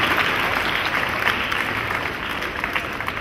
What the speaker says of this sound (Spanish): Nuestro aplauso